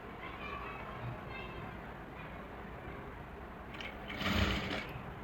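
A sewing machine stitches the neck lining of a suit, running in a steady, quiet mechanical whir that swells briefly louder near the end.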